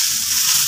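Bitter gourd fries on a gas stove, a brief, steady, close sizzle and hiss with no talk.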